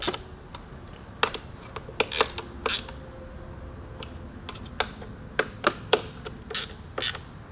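A hand ratchet snugs light-torque bolts on a 2019–2020 Electra Glide Standard motorcycle, producing sparse, close, fairly quiet clicks in short uneven runs over a low background.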